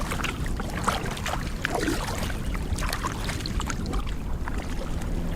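A kayak being paddled on Spruce Creek into a headwind, with continuous wind buffeting and irregular watery splashes and drips from the paddle strokes, close and steady throughout with no talk.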